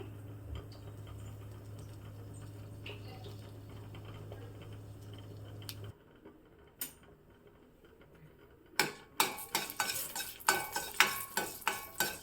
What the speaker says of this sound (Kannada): ಒಗ್ಗರಣೆ ರೆಡಿ ಆಗ್ತಾ ಇದೆ